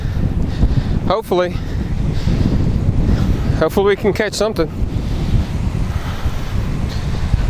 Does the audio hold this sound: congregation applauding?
no